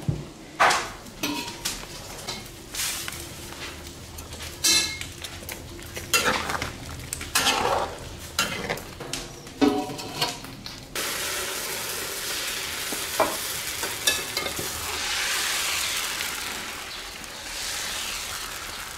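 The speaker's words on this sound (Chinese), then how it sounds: "肉还都可煎了哦，肉还可煎" Meat sizzles in a pan while being stirred, with scraping utensil clatter and pot knocks in bursts, then a steadier loud frying hiss in the latter half, no clear talk.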